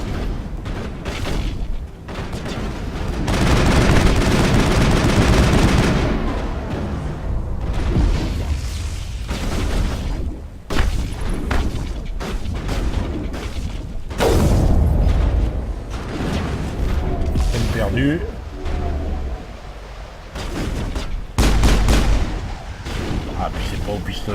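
Gunfire and explosive blasts in the video game Mass Effect during pistol combat, repeated sharp shots and booming impacts in bursts over game music and effects, with a voice talking at times.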